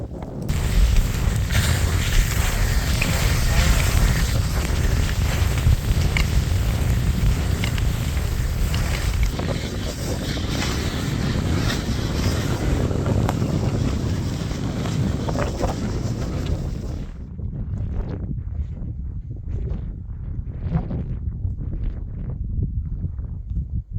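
Strong wind buffets the microphone in a broad, roaring rush during a winter ski trek through the Käsivarsi wilderness of Finnish Lapland in the polar night, then drops away to faint, sporadic gusts and scuffs.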